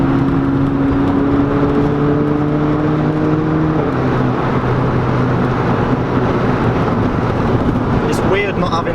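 A Volkswagen Polo GTI with a DSG gearbox accelerates, its engine tone rising steadily and then stepping at a smooth gear change. Loud wind and road roar come from inside the cabin.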